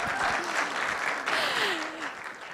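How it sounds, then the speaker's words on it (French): Audience clapping steadily at a church missionary commissioning, a dense, sustained wash of applause with a voice talking faintly over it. "Un peu d'applaudissements, s'il vous plaît."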